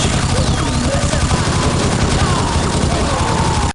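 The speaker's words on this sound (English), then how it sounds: "Now this is a hand cannon. This might actually be more louder than firing a Desert Eagle in real life." Hand cannon pistol firing in the first-person shooter game Gore - Ultimate Soldier: loud, dense, continuous booming gunfire that fills the whole stretch without a break.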